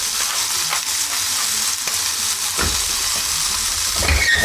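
Scallops searing in a hot pan give a steady, close sizzle, with a couple of louder stirring bursts toward the end and no talking.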